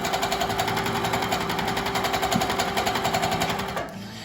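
Baby Lock Regent longarm quilting machine stitching at a steady comfortable speed, a loud, close, rapid mechanical chatter running continuously before easing off near the end.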